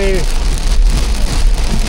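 A heavy rain downpour on the island of Krk near Malinska, Croatia, forms a loud, dense, unbroken hiss that fills the whole clip with no pauses.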